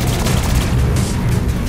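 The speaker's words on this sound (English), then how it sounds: "There's a lot of things shooting at me right now" Dense, continuous gunfire rattles through a Saints Row IV firefight, heavy booming shots layered into a loud, unbroken barrage with no pauses.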